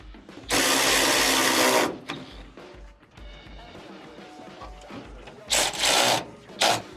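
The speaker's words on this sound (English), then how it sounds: "We're gonna go for take 2 of fitting the radiator." Radiator being fitted into an SN95 Mustang, with loud rubbing and scraping of parts in two main bursts plus smaller knocks and handling noises, close up and with no talk.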